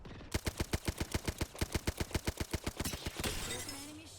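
Rapid automatic gunfire from a shooter video game: a steady, fast burst of about twenty loud, evenly spaced shots that ends in a ringing tail and faint game sounds.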